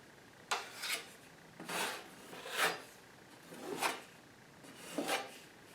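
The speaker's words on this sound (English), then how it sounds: "you would take a bigger spackling tool that covers the entire edge, and you just rub it over the top like this" A broad spackling tool rasps over wet spackle on a drywall patch, five slow scraping strokes spaced about a second apart, close and clear with no talking.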